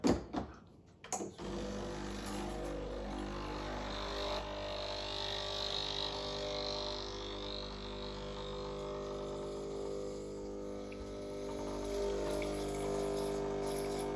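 Hot water flushing through the group head and shower screen of a Breville Barista Express BES870 espresso machine, a steady pump hum and hissing flow that runs unbroken after a short clunk at the start, close and alone.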